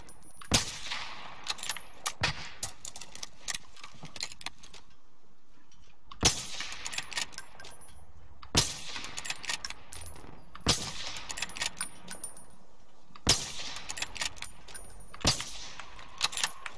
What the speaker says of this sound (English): I heard automatic fire over our original direction ish